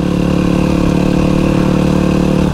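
An enduro motorcycle engine runs loud and close on a forest climb, a steady buzzing idle with a rough, throbbing pulse that holds evenly before dipping slightly at the end.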